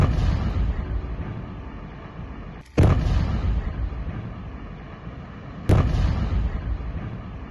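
Two deep, booming blasts from the explosive demolition of a former main production building, a few seconds apart, each cutting through a constant loud roaring rumble.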